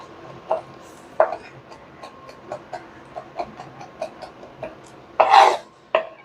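A knife slices through a whole chipotle pepper in adobo sauce on a cutting board, giving a string of soft, irregular chopping taps close by, with a few louder knocks near the end.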